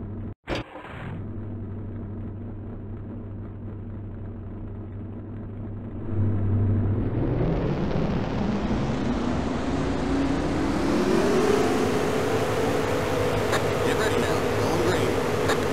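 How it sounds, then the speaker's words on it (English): Race car engines in the NASCAR Racing 4 video game at Richmond: a steady idling drone that swells into a loud, rising rev and holds a sustained roar, with a brief call heard at the start. "Gentlemen, start your engine!"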